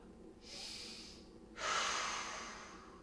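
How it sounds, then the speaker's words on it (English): During a beginner fitness exercise, two close, breathy exhales follow one another, the second longer and louder, with no talking. "Exhaling as you lower."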